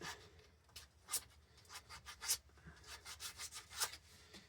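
Faint close sanding of a small wood-turned Christmas ornament, a run of quick rubbing strokes with a few sharper scratchy peaks, alone without speech.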